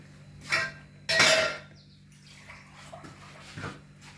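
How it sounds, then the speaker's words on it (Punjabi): Cold water is poured into a bowl in two short splashing bursts, the second longer, followed by faint clinks and quiet background hum. "ਹੁਣ ਮੈਂ ਇਹ ਪਾਣੀ ਨਾ ਅੱਧਾ ਕ ਕੱਪ ਹੋਰ ਪਾ ਲੂੰਗੀ ਇਹਦੇ ਵਿੱਚ"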